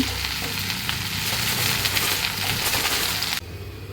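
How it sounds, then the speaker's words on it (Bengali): Okra frying in a pan while being stirred, a dense loud crackling sizzle with scraping movement throughout, dropping sharply quieter just before the end. "তো আমি এখন একটু নাড়াচাড়া করে দেই ঢেঁড়স"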